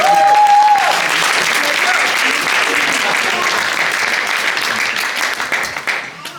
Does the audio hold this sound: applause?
yes